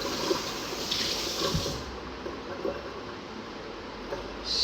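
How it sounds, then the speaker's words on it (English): Tap water running while hands are washed in a kitchen sink, a steady splashing hiss with small irregular shifts as hands move under the stream, moderately close and with no speech. "because I've got to wash my hands now"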